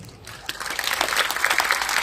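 Audience in an RCM event hall breaking into applause, a dense burst of many hands clapping that rises and holds steady for about two seconds.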